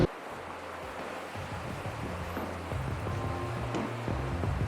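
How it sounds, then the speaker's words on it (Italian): Wind-driven surf and backwash wash against the rocks and breakwater of a harbour on a stormy day, a steady broadband rush with low rumbling swells rising slightly louder toward the end, no voices. "C'è un po' di risacca, ci proviamo."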